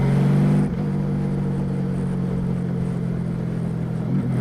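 Motorcycle engine with the throttle rolled on and off: a loud, close, steady rumbling drone whose pitch dips briefly as the throttle shifts, then holds and rises again toward the end.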